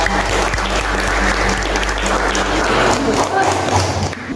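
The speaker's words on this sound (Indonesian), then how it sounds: "tepuk tangan untuk kelompok 3" Classmates clap for a student group during a lesson in a classroom, a dense burst of applause lasting several seconds with a low steady hum underneath and some thumps and taps mixed in.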